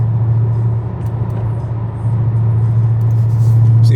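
A Dodge Hellcat Charger on 757 tires at full throttle, pulling from 60 to 80: a steady, loud, low engine roar that holds throughout and swells slightly toward the end, with faint road rumble beneath.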